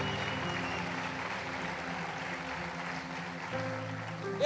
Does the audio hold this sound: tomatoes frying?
no